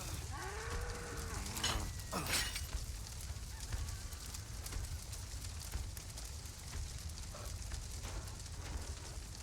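A cow moos in the Resident Evil 4 Remake video game, a few drawn-out lowing calls near the start, loud and clear over a steady low background rumble.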